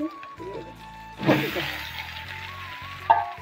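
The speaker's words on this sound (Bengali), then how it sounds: "আর কাঁচা লঙ্কা শুকনো লঙ্কা তেজপাতা পাক করুন।" Garlic, ginger, onion, green and dried chillies and bay leaf frying in hot oil in a home kitchen, a steady sizzle with a sharp burst as ingredients hit the pan, a few utensil clinks and faint background sounds.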